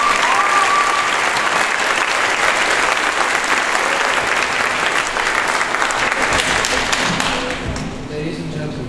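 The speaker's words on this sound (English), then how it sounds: "please join us in applauding these directors" A concert audience applauds band directors with steady, dense clapping that fills the hall, then thins and fades toward the end.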